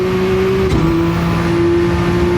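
A loud, steady Lamborghini Countach engine drone in a racing video game holds one sustained pitch with a brief dip partway through, the continuous whine of the car at speed.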